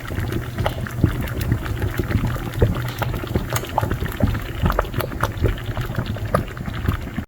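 Homemade ketchup boiling in a pot, a steady close bubbling and popping with a continuous, busy texture that holds evenly throughout, with no talking.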